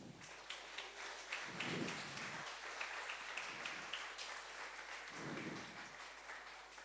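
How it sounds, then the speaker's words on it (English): Audience applause at a summer game development closing ceremony: a soft, sustained patter of many hands clapping, fairly distant, with a few brief swells. "a huge applause for the Slovak Arts Council"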